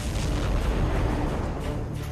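Massive explosion at an ammonium nitrate warehouse in Beirut, heard as a loud, sustained low rumbling roar that fills the whole stretch without pause, with no speech over it.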